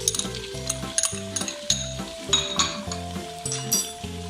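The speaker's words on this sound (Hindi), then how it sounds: "अच्छी तरह से हमें फ्राई कर लेना।" Tomatoes and garlic-ginger paste sizzle in a hot pan for a biryani, with rhythmic metal clinks and scrapes of a spoon stirring the mixture throughout, close and lively, no voices.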